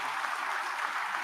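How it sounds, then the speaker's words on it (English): Steady, even applause from a large crowd at a U.S. Military Academy graduation ceremony, heard at a distance and moderately loud, continuous throughout without voices. "give them a round of applause, everybody"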